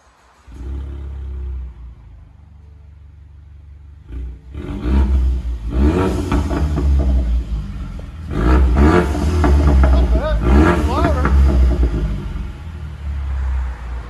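A loud Ford Mustang V8 with its mufflers removed idles with a deep rumble, then revs repeatedly in sharp, snarling bursts, close by with no talking.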